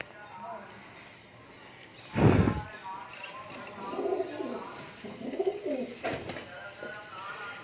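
Pigeons for sale coo softly in a loft, with low murmuring calls between a burst of wing flapping and handling; someone talks over them throughout.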